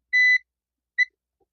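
A multimeter continuity tester beeps twice as its probes check capacitors on a smart LED TV motherboard: one longer tone, then a short one, clean and alone in silence.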